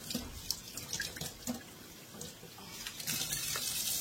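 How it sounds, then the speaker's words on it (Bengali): Excess water is tipped out of a plant pot, a soft uneven trickle and splash with a few distinct drips, building into a steadier pour toward the end, quiet and with no talking. "এক্সট্রা জলটা ফেলে দিচ্ছি, নাহলে তো আবার গোড়াটা পচে যাবে"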